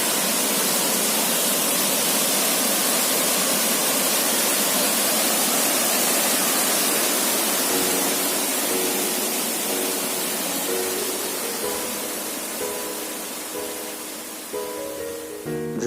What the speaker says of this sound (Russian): И вот, собственно, сам водопад.